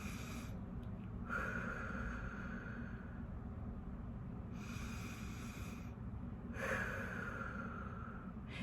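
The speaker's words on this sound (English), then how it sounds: "breathing in and out, slow and deep. So it can go like this." Slow, deep breaths in and out as a calming exercise, two long audible inhales with quieter exhales between them, close and steady against a low background hum, with no talking.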